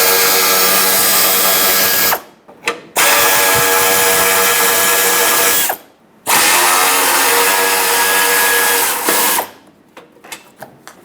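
Power tool spinning out 10mm bolts from a 2003-2009 Dodge Ram 2500 fog light, three loud, steady whirring runs of a few seconds each, separated by brief stops, followed by small clicks.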